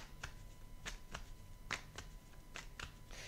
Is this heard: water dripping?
no